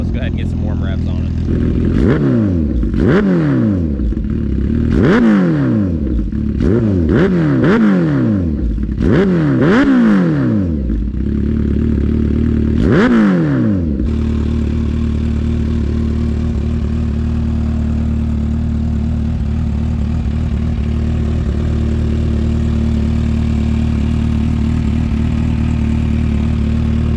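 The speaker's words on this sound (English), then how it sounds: "let's go ahead and get some warm revs on" A Kawasaki H2 motorcycle with a Vandemon full exhaust and Dynaworks flash is blipped through a series of sharp, loud revs, then settles into a steady, rumbling idle.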